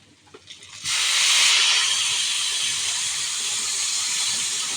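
After a few faint clatters, water hits frying rice in a hot pan with a sudden loud hiss that settles into a steady, bubbling sizzle.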